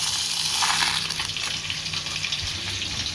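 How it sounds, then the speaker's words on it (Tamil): Beef fries in oil in a pan on a stove over medium flame, giving a steady close hiss and sizzle with soft bubbling, and no talk. "ஸ்டவ் மீடியம் ஃப்ளேமில் வச்சு இந்த எண்ணெயிலே பீஃப் வந்து கொஞ்சம் வேகட்டு"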